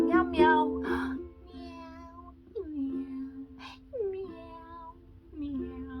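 A human voice imitates a cat, singing a run of drawn-out, wavering meows one after another during a children's ukulele sing-and-strum lesson, close and fairly soft.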